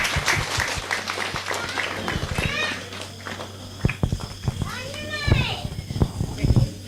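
Scattered, sharp claps punctuate the room at an annual day celebration, mixed with children's chatter, shrieks and adults talking, the claps arriving in short uneven bursts rather than sustained applause.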